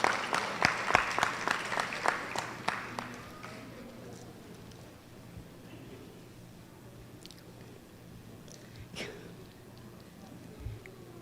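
A crowd claps for award-winning families at a school district parent awards event, a burst of loud applause at the start that thins and fades into scattered claps and room murmur.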